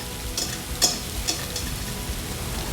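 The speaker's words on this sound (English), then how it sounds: "we're going to add our zoodles, and we're going to saute those on high for about 5 minutes." Zucchini noodles sauteing on high heat in a pan, a steady close sizzle with a few sharper crackles and pops, no talking.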